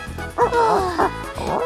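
A cartoon dog barks and yips in several quick bursts, loud and close, with a whimpering tone between barks.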